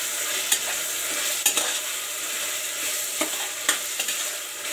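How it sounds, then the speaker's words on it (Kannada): Chopped tomatoes frying in a pan for potato and peas pulao, a loud continuous sizzle broken by sharp spatula scrapes and clicks as they are stirred, with no voices. "ಈಗ ಇದಕ್ಕೆ ಟೊಮೆಟೊ ಹಾಕೋಣ।"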